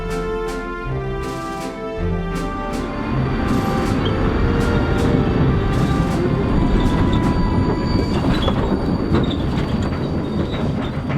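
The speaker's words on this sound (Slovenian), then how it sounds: "V mojih časih vlaka nismo poznali." Train rolling past on a railway line, steady and loud throughout, with a dense rumble, rhythmic wheel clatter and occasional high wheel squeal, no voices.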